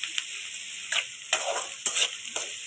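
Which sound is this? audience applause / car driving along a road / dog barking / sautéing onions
sautéing onions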